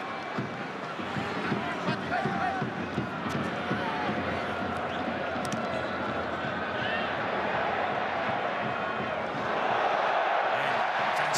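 A football stadium crowd at France versus Spain in a 2014 World Cup qualifier keeps up a steady roar of cheering throughout, swelling louder near the end, with a commentator talking over it.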